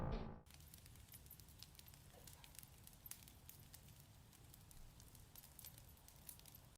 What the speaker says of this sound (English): I made a campfire to keep myself warm.